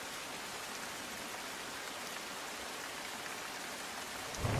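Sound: heavy rain falling in Amreli, Gujarat

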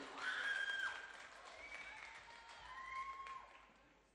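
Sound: audience applause at school music night

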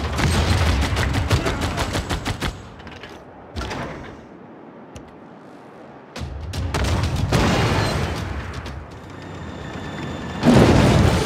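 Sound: artillery gunfire in video game Civilization 6 Warhammer

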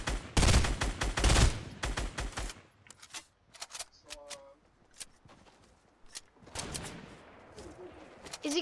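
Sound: gunfire in a video game

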